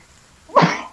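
A single sharp sneeze bursts out near the end after near silence, close and loud.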